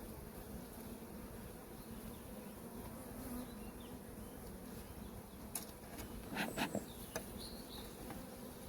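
Honeybees buzzing over a hive frame of brood, a steady dense hum held throughout, with a few louder passes from bees flying close to the microphone near the end.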